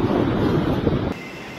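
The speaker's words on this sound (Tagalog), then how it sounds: "Ang hangin sumisipol." Strong typhoon wind roars and whistles over the sea at Virac, Catanduanes, with heavy rain and a raging surf, loud and steady before dropping abruptly to a quieter rush.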